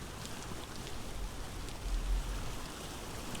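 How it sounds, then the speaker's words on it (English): Rain and storm in the game Vintage Story, a steady hiss of heavy rainfall with a low rumble swelling briefly midway, continuous and moderately loud. "It's raining, it's storming"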